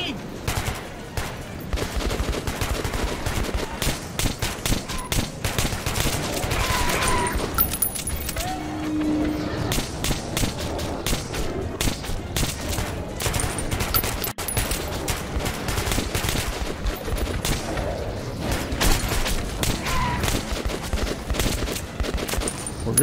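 Shotgun fire in Metro 2033 Redux rings out in rapid repeated blasts under a busy, dense stretch of combat noise that runs the whole time, loud and close, without a pause.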